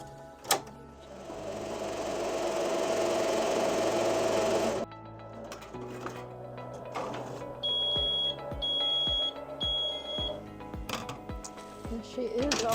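An embroidery machine stitches underlay and then a satin stitch on a wall quilt, its steady mechanical whir running loud for several seconds before shifting into shorter bursts of stitching with pauses and some beeps.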